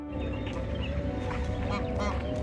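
Ducks and geese quacking and honking at a desert lakeside at Al Qudra Lakes in Dubai, several birds calling near and far in a steady, overlapping chorus over an outdoor background.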